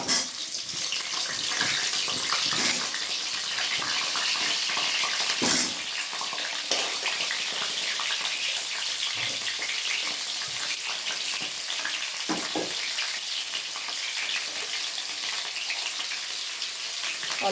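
Potatoes go one at a time into hot oil in a pan for a mutton curry, setting off a steady, close sizzling and hissing with a few sharper splattering bursts throughout, no voices.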